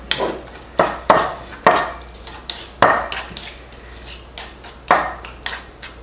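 Honey is mixed into food in a bowl with a utensil, producing a series of irregular clacks and scrapes against the bowl, fairly close and heard without talk.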